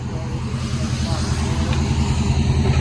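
A 2003 Chevy Silverado 2500HD with a 6.0L V8 and a Flowmaster Flow FX exhaust idles up close, giving a deep, steady, pulsing burble with faint voices in the background.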